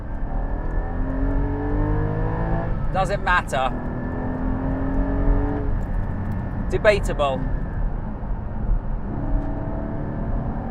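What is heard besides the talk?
Porsche 718 Cayman GT4 engine noise while driving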